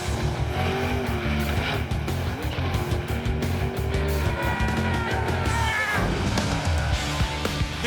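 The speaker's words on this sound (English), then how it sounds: "To perform a wheel stand, you get a rear-wheel drive car, outfit it with the largest engine you can, lock the trans brake," A rear-wheel-drive Chevette with a 650-horsepower engine launches into a wheel stand at a drag strip, its engine roaring loud and continuous with screeching tire squeal, a brief dip near the end before the roar resumes.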